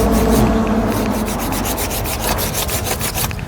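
A small hand saw cuts through a tree's wood with quick, rhythmic back-and-forth rasping strokes, close and loud.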